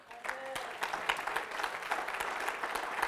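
A church congregation breaks into sustained, dense applause and cheering in praise during a sermon, steady and loud for the whole stretch.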